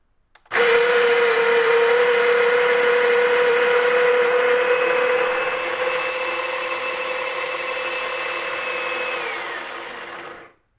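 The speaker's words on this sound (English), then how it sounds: "Let's go ahead and grind this out." An electric burr coffee grinder, Eureka Mignon or Baratza Sette 270, grinds a dose of beans in one steady loud whir lasting about ten seconds, its pitch and load shifting slightly partway through before it cuts off.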